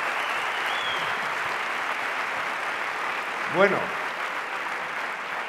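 A conference audience claps for a speaker in a dense, steady wash of applause while someone says a few words over it near the end.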